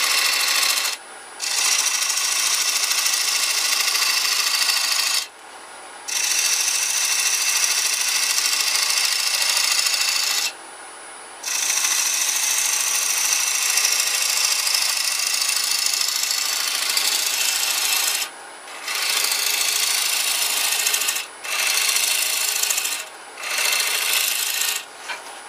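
Turning tool cutting a tenon into a holly natural-edged bowl blank spinning on a wood lathe, a steady bright rasping hiss in long passes broken by several short pauses.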